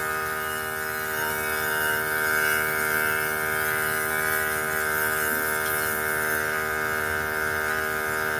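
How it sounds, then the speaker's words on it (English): An airbrush compressor hums steadily and fairly loud, a constant electric drone with a buzzing tone that holds unchanged the whole time, with no talking. "Today's music is brought to you by my airbrush."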